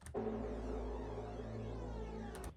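A trance atmosphere layer: a soft, sustained synth pad drone with a low throbbing foundation and slowly sweeping upper shimmer, heard alone for a few seconds.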